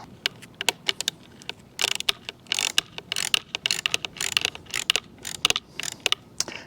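A T40 Torx driver tightens a bolt on a Jeep Wrangler Mopar soft top, producing a close, fast run of sharp ratcheting clicks in irregular bursts, with denser stretches in the middle and no talking.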